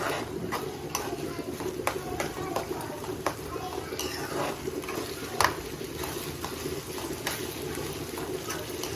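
Onions and ginger-garlic paste frying in a pan for a prawn fry, giving a steady sizzle with light clinks and stirring scrapes underneath.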